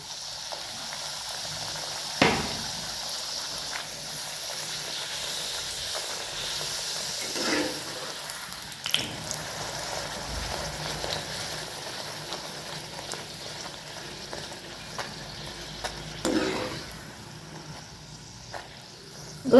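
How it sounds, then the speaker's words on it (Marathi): Puris frying in hot oil, giving a steady close sizzle and hiss with occasional louder bubbling spurts as they are turned, no talking over it. "दोन्हीकडून आलटून पलटून पुऱ्या तळून घ्यायचे आपल्याला."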